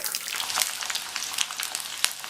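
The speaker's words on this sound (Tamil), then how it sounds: "இந்த பூண்டு கொஞ்சம் வதங்கிக்கட்டும்." Peeled garlic cloves, about 100 grams, frying in hot oil with curry leaves for a South Indian kuzhambu, giving a close, loud, continuous crackling sizzle with brief pops.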